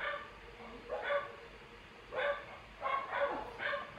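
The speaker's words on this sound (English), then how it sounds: "Of course the dogs have to bark because someone's at the gate." Dogs barking in the horse-breeding video game Wild Horse Islands, sounding off in several short bursts of yips and barks at a moderate distance, without talk over them.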